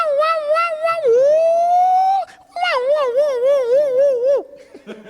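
A human voice imitates the wailing siren of a presidential motorcade, rising and falling in long warbling sweeps, loud and close, broken by a short pause and ending with a small laugh.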